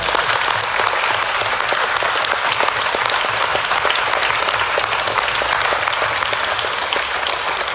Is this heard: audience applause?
yes